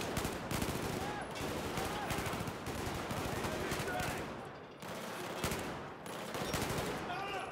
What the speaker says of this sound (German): immer schön ins Lichtchen schießen